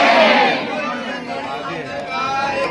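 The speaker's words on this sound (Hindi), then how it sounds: "बहुत बहुत ज़्यादा भीड़ थी।" A large crowd of people at Nidhivan temple fills the air with a dense babble of many voices and shouts, loud and close at first, then settling into a steady hubbub.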